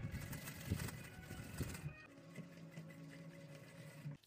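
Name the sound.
sewing machine stitching piping on a neckline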